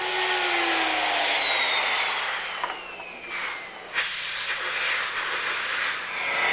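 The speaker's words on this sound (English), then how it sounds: "A router is used to cut the mortise to a depth of about 5/8 of an inch." A woodworking router cuts a mortise about 5/8 inch deep in wood for a conservatory build. A high motor whine slides down in pitch over a steady hiss, followed by several short, harsh cutting bursts close by.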